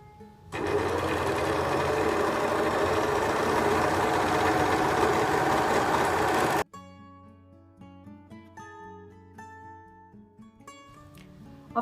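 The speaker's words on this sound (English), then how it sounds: "Next is to overlock the 4 sides of the fabric." An overlock sewing machine runs steadily for about six seconds, a loud, fast, buzzing stitch while it finishes the edges of bedsheet fabric, then stops abruptly, leaving quiet background music.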